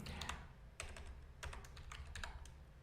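Typing on a computer keyboard while writing HTML and CSS code, with quiet, irregular clusters of key taps and brief pauses between bursts.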